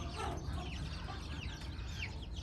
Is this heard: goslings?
yes